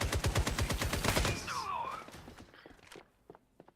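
Rapid gunfire in the shooter game FragPunk rattles in a fast, loud burst of evenly spaced shots for about a second and a half, then fades into scattered footsteps and a few sharp clicks.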